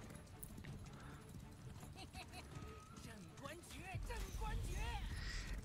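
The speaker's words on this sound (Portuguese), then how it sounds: "A gente já começa com um combate aí no cavalinho frenético." Rapid hoofbeats of a horse galloping during frantic mounted combat in the video game Where Winds Meet, with game sounds and clashes around it, under someone talking throughout.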